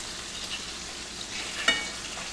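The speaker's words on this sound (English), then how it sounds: "Okay, our burgers are just about ready to be flipped." Burgers fry in a hot pan with a steady, dense sizzle and crackle, broken by one brief louder pop near the end, close and without any talking.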